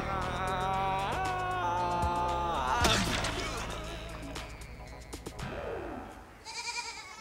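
Wavering bleats from a baby goat, a sustained tremulous cry followed by further shorter calls, moderately close, with clattering and rustling noises mixed in.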